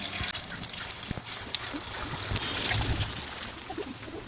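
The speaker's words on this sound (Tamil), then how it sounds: "எண்ணெய் நல்லா சூடாகிட்டு இப்போ நம்ம சிக்கனை போட்டுடலாம்" Marinated chicken 65 pieces fry in hot oil in a kadai, giving a steady, fairly loud sizzle and bubbling hiss that runs throughout with no talking.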